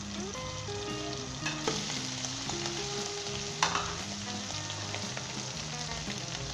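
Ginger and garlic fry in a pan until light golden brown, with a steady close sizzle, occasional stirring clinks and faint background music underneath.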